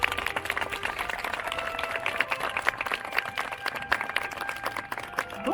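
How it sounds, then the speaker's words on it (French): Warm applause from a live show audience greets a guest at a Wild West OK Corral stage performance, dense steady clapping with scattered sharper claps, moderately near and sustained throughout. "sous quelques chaleureux applaudissements du public"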